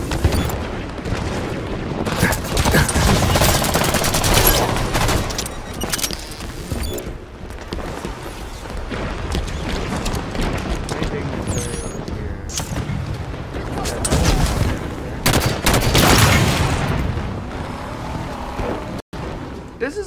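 Dense gunfire and booming explosions from the video game Halo 5 Guardians, with continuous bursts of shots and blasts filling the whole stretch at close, loud level and a voice talking over the battle.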